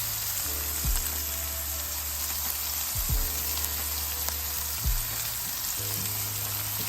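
Burger patties sizzle on an indoor electric grill with a constant bright crackle, heard close, while low droning tones start and stop, broken by a few sharp clunks.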